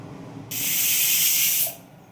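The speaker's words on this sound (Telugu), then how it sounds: "పప్పు కోసం కుక్కర్ పెట్టాను" A pressure cooker on the stove, cooking dal, lets out a single loud burst of steam that hisses for about a second before cutting off sharply, with no talking.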